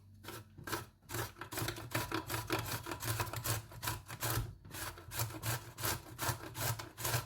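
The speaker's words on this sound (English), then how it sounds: "And the celeriac towards the Rosti, just going to grate along with the apple." Celeriac and apple grated together on a hand grater for a rosti, a close, brisk run of rhythmic rasping strokes, each scrape quick and even, repeating steadily with no talk.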